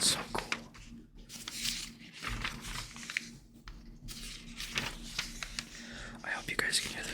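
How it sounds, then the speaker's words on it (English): Comic book pages rustle and flip repeatedly at close range, with crisp crinkles and soft whispering between the turns. "I hope you guys can hear the page turning"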